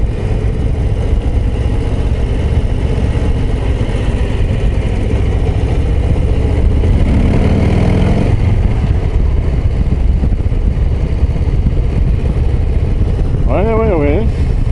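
A Harley-Davidson Low Rider ST cruiser on a test ride, its engine droning steadily under strong wind rush, with a brief rise in revs midway.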